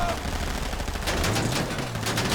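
Gunfire during a heist mission in the video game GTA V, a dense, loud burst of rapid shots that stays busy and continuous the whole way through.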